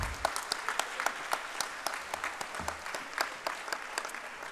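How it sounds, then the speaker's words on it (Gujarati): Audience at a community annual summit applauding a philanthropic gesture by two families, a dense, steady burst of many hands clapping throughout, moderately distant and without voices. "I want to put your hands together for the extraordinary gesture of philanthropy"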